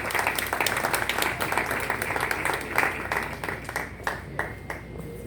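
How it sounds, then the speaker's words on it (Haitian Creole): A crowd at an evening event applauds warmly and steadily, many hands clapping together in a dense, sustained roar that slowly thins toward the end. "Je vous demande de l'applaudir très chaudement"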